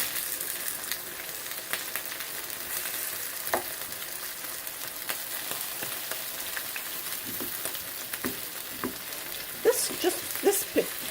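Potatoes for fish and chips fry in hot oil with a steady, close sizzle that runs throughout, with a few sharper pops and crackles breaking through near the end.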